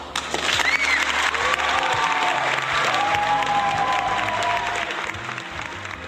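A crowd bursts into applause with some cheering and whistles, loud and sustained for several seconds before easing slightly at the end.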